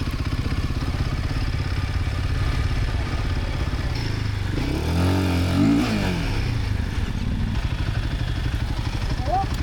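An off-road trail motorcycle on a French cross-country rally route holds a steady loud engine drone throughout, with a rising rev swell near the middle, while voices talk over it.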